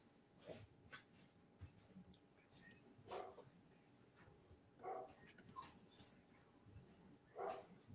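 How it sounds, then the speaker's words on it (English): A dog barks in the background at home, sending out faint, scattered barks and yips. "That's my dog in the background."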